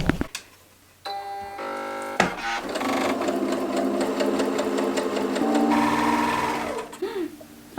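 A Singer sewing machine starts with a few clicks, then whirs into a steady, fast mechanical stitching hum with rhythmic ticking, running for several seconds before slowing to a stop.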